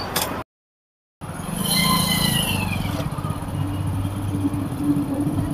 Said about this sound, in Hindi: यहाँ से हम बाइक अंदर लेके